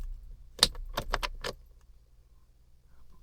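Keys jangle sharply as a car key is turned in the ignition of a 2005–2009 BMW X5 3.0i (E53), a few quick clinks close by, then quiet hum.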